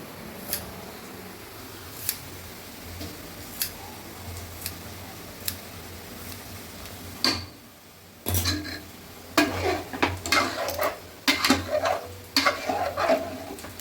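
Mint and coriander leaves are chopped with a knife on a board in a home kitchen. At first come sparse, evenly spaced taps over steady background hum, followed by denser, louder bursts of cutting and clattering utensils.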